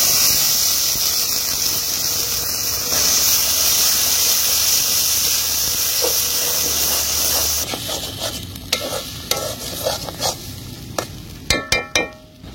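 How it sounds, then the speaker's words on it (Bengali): Green pea paste hits hot white oil in a wok seasoned with a pinch of asafoetida, giving a loud steady sizzle that later breaks into scraping stirs and clattering strokes. "এবার আমি কড়াইশুঁটির পেস্টটা দিয়ে দিচ্ছি"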